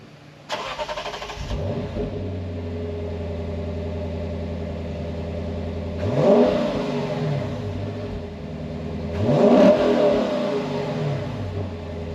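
A Lexus GS F V8 car starts up with a sharp bark, settles into a steady idle, then revs hard twice in loud, close bursts that fall back to idle each time.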